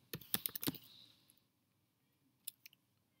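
Someone types Python code on a computer keyboard in a quiet room: a quick burst of close key clicks, a pause, then a few more isolated taps.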